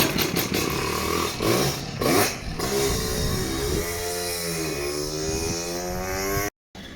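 A Vespa scooter engine, out for a practice ride before a 10-hour endurance race at Le Creusot, revs loudly and steadily with rising and falling pitch as gears change, close by and continuous until a brief dropout near the end.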